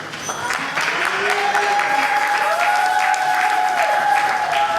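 Church congregation at an evangelical praise gathering applauds loudly and continuously, with a sustained sung or shouted tone riding over the clapping throughout.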